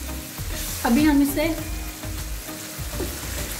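Kaleji masala frying in a pan for chicken dil kaleji, a steady close sizzle with a few stirring scrapes and a brief louder burst of spattering near the start.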